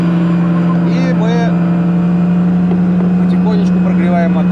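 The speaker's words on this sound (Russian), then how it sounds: "Все, движок завелся. Ставлю обороты." Motor glider engine just started in flight and running at high revs around 5000 rpm, a loud steady buzzing drone throughout with someone talking over it.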